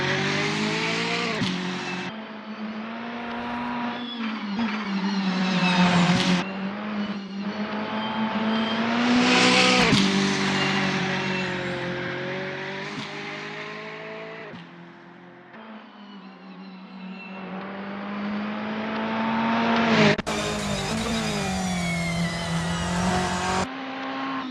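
A VW Scirocco Silhouette Vortex GC10 race car at Bilster Berg in Assetto Corsa revs hard through repeated gear changes on an out lap, the engine rising and falling in steady cycles with occasional tyre squeal, loud and continuous.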